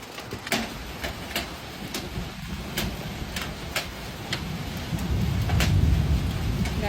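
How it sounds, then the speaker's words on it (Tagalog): Steady heavy rain pours down with a low thunder rumble that swells toward the end, and sharp drips or ticks land at irregular intervals. "Ay, ang lakas ng ulan."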